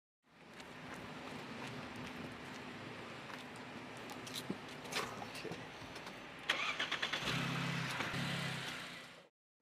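A car engine is restarted: after a stretch of low, steady rumble, the starter cranks and the engine catches near the end, settling into a louder mid-pitched idle, with no speech.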